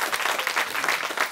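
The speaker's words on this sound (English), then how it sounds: "A round of applause for that" A studio audience at the Grand Opera House applauds during a television chat show. The dense, steady clapping fills the whole short moment.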